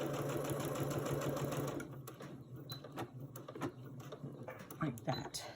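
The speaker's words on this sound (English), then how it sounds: "start sewing and help it through." A sewing machine stitches quilt fabric in a fast, steady whir, then stops and gives way to short mechanical clicks and handling noises, with someone talking softly.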